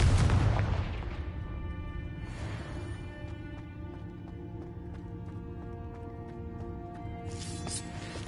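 A Confringo blasting spell explodes in Hogwarts Legacy with one loud boom at the start that decays within a second. A softer whoosh follows, and then a sustained magical hum with a light shimmer.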